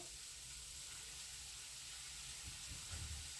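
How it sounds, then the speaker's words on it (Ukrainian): Chopped onion poured into hot oil in a pan sizzles softly with a steady, faint hiss, and a few louder crackles and stirring bumps near the end. "олійка наша розігрілася, тому висипаємо спочатку цибульку"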